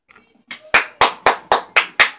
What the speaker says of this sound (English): I hear a lot of applause